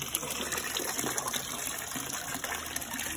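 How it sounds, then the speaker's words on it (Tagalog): Water gushes continuously through the filter of a catfish tank, a steady close splashing pour with a bubbling, trickling texture and no voices. "recycle na yung ating tubig, recycle na yan. Yan ang ating filter hanggang bumababa."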